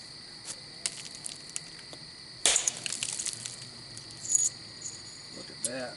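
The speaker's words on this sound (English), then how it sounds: "you can hear the frogs and the bugs in the background." Frogs and insects chirp steadily through a night scene, a thin continuous high trill with faint calls underneath, briefly interrupted by a burst of crunching clatter from flint knapping.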